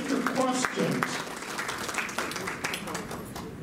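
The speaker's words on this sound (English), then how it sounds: "can we have a warm round of applause for David Fenner?" Applause from an audience at a lecture on the fall of the Ottoman Empire, a steady wash of clapping lasting several seconds with faint talk mixed in at the start.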